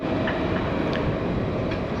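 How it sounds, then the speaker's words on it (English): A train rolls along tracks at a station in Santa Cruz de Tenerife, a steady broadband rumble filling the whole stretch with faint rail clatter over continuous street ambience. "So there's a train here."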